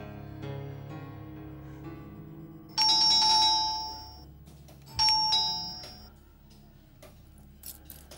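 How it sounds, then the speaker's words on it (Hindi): A house doorbell rings twice in close succession, bright electronic chime tones, with a quiet indoor background before and after and no voices. "घंटी सुनने पर दरवाजा भी नहीं खोला।"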